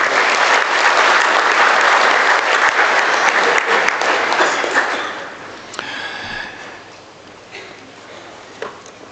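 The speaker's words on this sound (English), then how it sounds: "let's give them a big round of applause" An audience at a 4-H livestock judging awards banquet gives loud sustained applause that fades out after about five seconds, leaving scattered claps and room noise.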